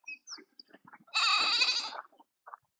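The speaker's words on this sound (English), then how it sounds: "Got a goat greeting us." A goat at a rural homestead in Zimbabwe lets out a single loud, wavering bleat lasting close by, preceded and followed by faint scattered noises.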